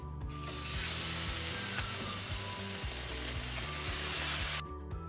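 Loud, steady sizzling of chicken searing in a hot sprayed pan, continuous for several seconds before cutting off abruptly.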